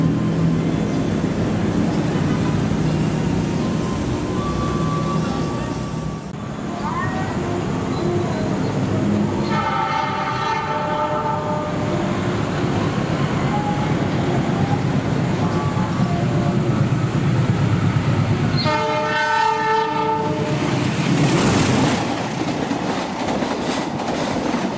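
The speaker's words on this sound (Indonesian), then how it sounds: "Jadi setelah kereta api Argo Sindoro 12A lewat di sini, habis itu langsung berangkat lokomotifnya." A locomotive pulls away from a station just after the Argo Sindoro express passes, with a loud continuous rumble of rolling stock, bursts of horn-like tonal blasts in the middle and near the end, and no voices.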